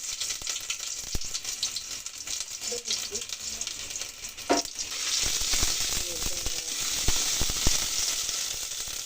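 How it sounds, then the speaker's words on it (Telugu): Steady crackling sizzle of ginger garlic paste frying in hot oil, with a few sharp clinks and pops from a utensil stirring the pan. "ఆయిల్లో అల్లం వెల్లుల్లి పేస్ట్ వేసుకున్నాం కదా"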